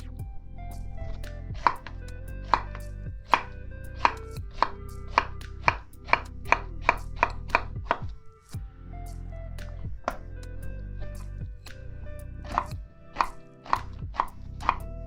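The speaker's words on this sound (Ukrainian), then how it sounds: "Тепер нарізаємо кабачок невеликими кубиками." A knife chops zucchini into small cubes on a cutting board, sharp rhythmic taps in quick bursts with brief pauses between runs.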